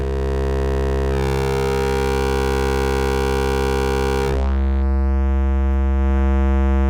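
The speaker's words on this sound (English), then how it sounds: "And then finally a drive circuit." A loud, buzzy synthesizer tone from an Erica Synths Graphic VCO oscillator, with rich harmonics and gritty drive distortion, shifting character partway through as the drive changes, sustained without pause.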